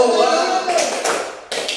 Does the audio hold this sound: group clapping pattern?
yes